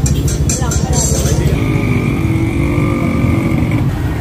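A motorcycle passes close by at a seafood market, its engine a loud, steady drone with a rising whine, while people talk nearby.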